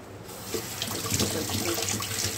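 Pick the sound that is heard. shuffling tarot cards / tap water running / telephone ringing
tap water running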